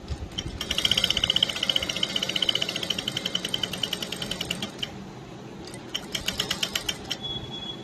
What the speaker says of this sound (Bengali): তো চলো এখন একটু সেলাই কাজ করিনি।